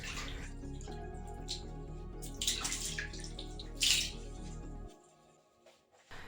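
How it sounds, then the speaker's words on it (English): Water runs steadily into a bathtub to wet it before cleaning, a close, continuous rushing splash that cuts off near the end, leaving a brief quiet with faint drips. "First, wet the bathtub with water."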